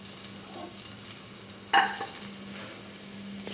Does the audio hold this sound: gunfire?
no